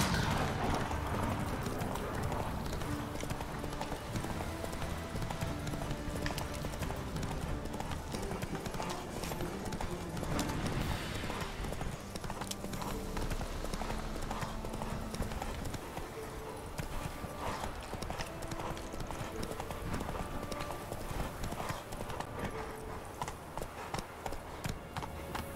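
Roach the horse trots along in The Witcher 3, a continuous dense clip-clop of hooves carrying on steadily for the whole stretch over ambient game sound, with no one speaking.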